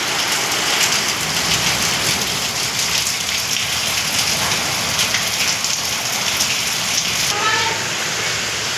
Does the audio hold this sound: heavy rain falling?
yes